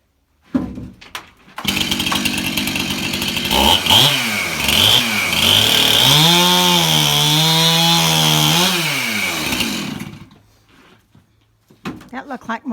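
A chainsaw cuts barn timber nearby, starting with a sharp pull and then holding a loud, steady buzzing whine that bogs and rises as it bites before cutting off, with voices briefly at the end.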